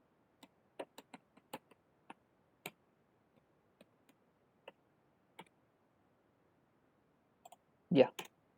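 Typing on a computer keyboard while entering Python code: sparse, irregular single key clicks spaced across the clip, followed by a brief burst of louder clacks near the end, in an otherwise quiet room.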